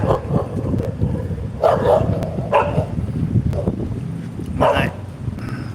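Several dogs bark in short bursts at moderate distance during an outdoor walk, with wind buffeting the microphone between the barks.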